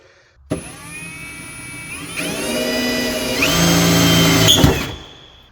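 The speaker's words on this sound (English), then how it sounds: "Now I have all the holes drilled for the pump and the mounting brackets." A handheld power drill bores mounting holes for a vacuum pump and its brackets in the engine bay of a 1000hp 2JZ-powered Lexus build, whining up in pitch and loudness over several seconds before spinning down, with no talking.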